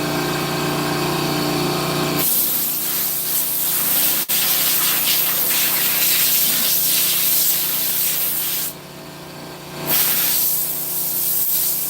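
A loud, continuous hissing spray, paint being sprayed onto the rims of a Buick Regal, with a compressor-like hum beneath, broken by a short pause before the spraying resumes.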